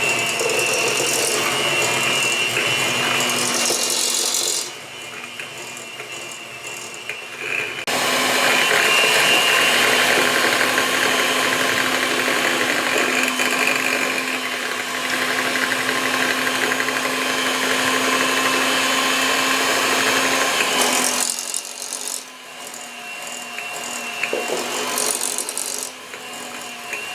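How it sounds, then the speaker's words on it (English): An electric hand mixer whirs steadily through cake batter, loud and close, with a gritty rattling buzz that shifts pitch as the speed changes and briefly drops between bursts. "I got the hand mixer, and start your speed low"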